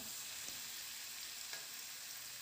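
Cut potatoes in a hot pan with spring onions, a steady soft hiss of sizzling oil with two faint stirring knocks, quiet and continuous, no talking.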